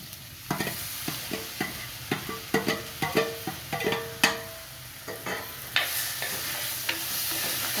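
Cut potatoes frying in a pan are stirred with a utensil, giving a series of distinct scraping and clacking strokes at an uneven rhythm over a quiet sizzle, close up with no talking.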